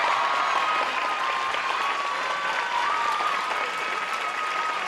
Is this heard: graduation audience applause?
yes